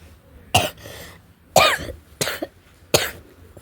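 Four sharp, close coughs come at uneven intervals, each a short harsh burst with quiet pauses between and no talk.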